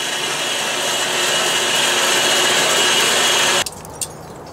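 A Harbor Freight bandsaw cuts through a steel support tube for a trailer tongue extension, giving a loud, steady grinding hiss that stops abruptly near the end, followed by a couple of sharp clanks.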